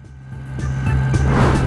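Car engine from a drifting vehicle in the mobile game Sneaky Sasquatch, a droning, tonal motor hum that rises in loudness and pitch as the car slides through the turns.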